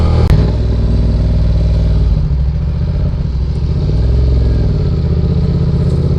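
A BMW F900R motorcycle engine rumbles close and loud while riding through slow traffic, holding a steady drone with slight surges and a faint clatter near the start.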